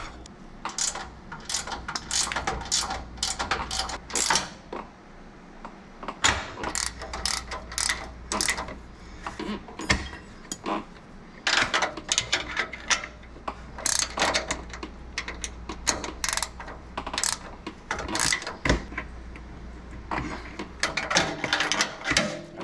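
An impact wrench tightens bolts on a truck, rattling in repeated short hammering bursts with brief pauses between them, loud and close throughout.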